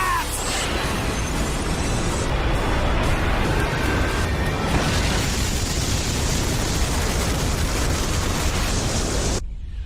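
A big explosion blast in Naruto anime, a long, loud roaring rumble that holds steady for about ten seconds and then cuts off abruptly.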